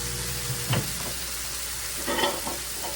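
Melted butter sizzling in a pan while squash is cooked, a steady close frying hiss with a few short clacks of a spoon stirring.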